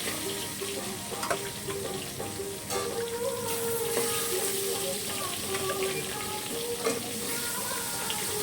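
Magur fish frying in hot oil, added to the pan with a spatula: a loud, continuous sizzle with crackling bursts and scraping, close up.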